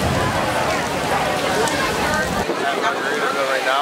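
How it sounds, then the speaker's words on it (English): Dense, steady hiss of heavy rain pouring down nearby on a beach in Negril, Jamaica, heard from under a cabana, with splashing texture throughout and a slight change in tone toward the end. "Right now it's really raining."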